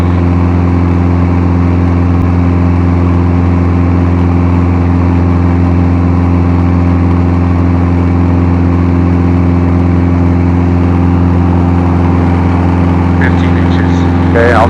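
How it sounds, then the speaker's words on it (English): Light twin-engine aircraft with its left engine running, heard from inside the cockpit as a loud, steady droning hum with strong even tones that hold throughout, with no clear start-up moment. "I'm going to start the left engine."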